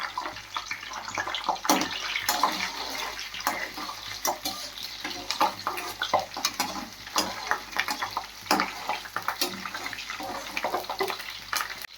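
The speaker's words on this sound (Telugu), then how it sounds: "ఈ కొంచెం వేగినాక వంకాయ ముక్కలు అయితే వేసుకోవాలి" Brinjal pieces fry in a pan with cumin, giving a close, steady sizzle broken by the clatter of stirring throughout.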